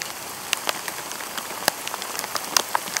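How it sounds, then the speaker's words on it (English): Heavy rain in Pensacola, Florida pouring onto surfaces, a steady close hiss broken by scattered sharp drop impacts, with no voices. "the rain's really coming down."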